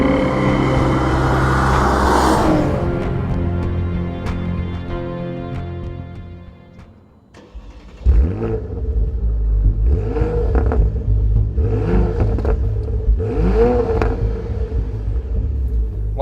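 A 2014 Porsche Panamera 4S with a twin-turbo V6 launches hard. A loud, rising engine roar falls briefly, then surges again, with distinct gear-change steps as it keeps pulling.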